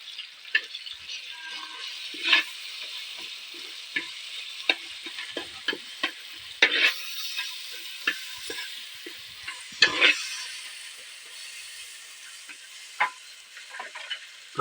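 Tomatoes sizzling softly in a pan for a tuna fish curry, with a spatula scraping and stirring in scattered taps and scrapes, close and fairly quiet.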